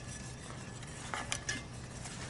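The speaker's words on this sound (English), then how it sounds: "Keep stirring." A utensil stirs cheese sauce for macaroni and cheese in a pot, making faint scraping and clinking strokes over a quiet, steady background.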